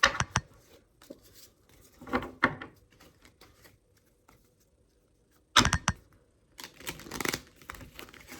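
Tarot cards riffle and slap together in short, crisp bursts, with quiet gaps between bouts of shuffling.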